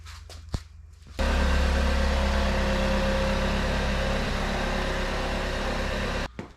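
An engine starts and then runs steadily and loudly, close by, for about five seconds as a car is moved out of a garage, before cutting off abruptly.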